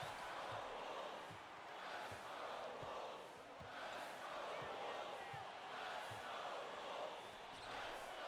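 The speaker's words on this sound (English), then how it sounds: "The crowd is chanting." A large crowd chants in a rhythmic, pulsing pattern, with regular low thumps beneath a broad roar of voices, fairly distant and continuous.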